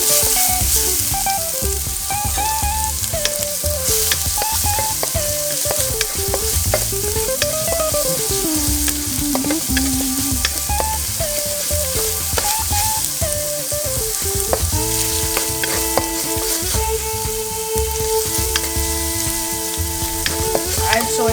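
Garlic cloves and dry chilies sizzling steadily in a hot pan for a chicken stir-fry, a loud, continuous crackle heard close up.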